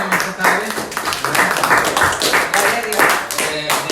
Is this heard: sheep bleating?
no